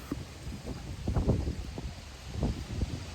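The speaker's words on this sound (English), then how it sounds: "No, it's wind's picking up on here." Wind buffets a microphone outdoors in low rumbling gusts, swelling and fading over a few seconds, with a faint rustle behind it and no voices.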